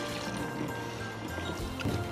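Liquid poured back into a container, a continuous close trickling and splashing with a gurgling undertone, steady and moderately loud, building slightly at the end.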